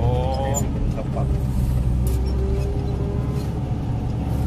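A Cat 140K motor grader's diesel engine runs steadily and loud, with a dry, constant rumble. People talk over it throughout.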